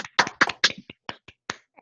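An online audience of unmuted participants clapping after a talk, a sparse scattering of separate claps and taps rather than full applause, fairly close and with no speech.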